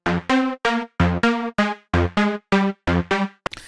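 Two plucky synth sounds are layered, one an octave below the other, in short, punchy, staccato notes in a rhythmic pattern. Eleven bright stabs play loud and close, and a brief noise burst follows at the end.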